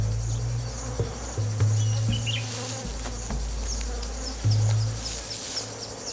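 Dense buzzing of honeybees swarming around a wild hive, a steady close-up drone with individual insects swelling louder as they pass near, alone without voices.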